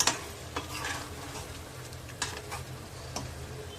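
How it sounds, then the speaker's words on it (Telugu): Chicken pieces sautéing in masala in a pressure cooker for biryani, a soft steady sizzle with occasional clicks and scrapes of a stirring spoon, close but fairly quiet and without talk. "బాగా ఒక 5 మినిట్స్ సాటే చేసుకుందాము. మసాలా అంతా చికెన్ ముక్కలు పట్టేలాగా."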